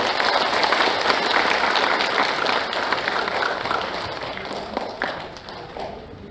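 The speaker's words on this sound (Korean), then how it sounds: "박수로 환영해 주십시오." An audience at a founding convention of a bereaved families' association applauds to welcome its first chairman, a dense, continuous wash of clapping that gradually thins and tapers off, with scattered voices and movement underneath.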